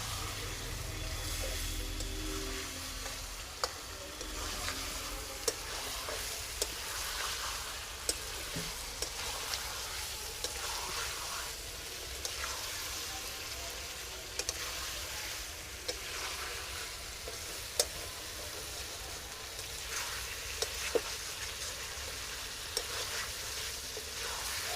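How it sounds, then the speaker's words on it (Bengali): Chicken for a home-style curry sizzles and sautés in a pan, a constant close frying hiss broken by regular light clicks and scrapes from stirring. "ভালো করে কষিয়ে নেবো"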